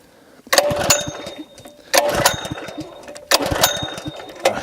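A small gasoline engine on a DIY fire water pump is pulled three times in a row; each pull brings a short sputtering, rattling burst of the engine that fades before the next try, with no talk.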